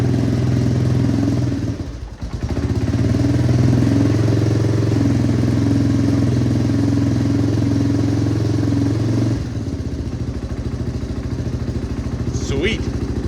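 1988 Yamaha Moto 4 ATV engine idling in a garage, a steady close chugging drone that dips briefly, then settles back into an even idle, with people talking over it.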